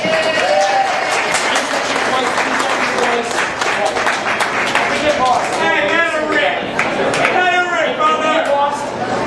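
Loud, close audience applause fills a club stage room after an accordion player on the Steirische Ziehharmonika is introduced, dense steady clapping with crowd chatter and talk mixed in.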